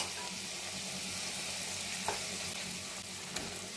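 Chicken pieces fry slowly on low heat, a steady soft sizzle with faint crackles and a couple of small clinks, close and without talk.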